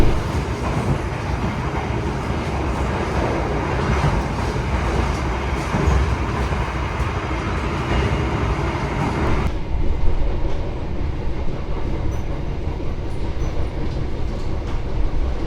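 Bogowonto passenger train carriage rolling on rails, a loud steady rumbling rattle with jolts and clatter heard from inside the car, continuing without voices and turning slightly duller toward the end.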